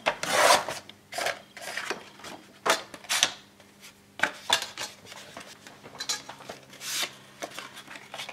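A hand tool cutting wood while a display cabinet is finished: a series of rough rasping strokes in an uneven rhythm, close and fairly loud, separated by short pauses.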